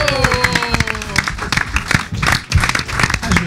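Studio applause for a contestant on a live radio show: bursts of clapping from a small crowd, uneven and close, mixed with voices talking over it.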